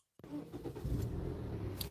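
Toyota Alphard engine starting after a brief click, catching into a steady, fairly quiet idle rumble heard close up.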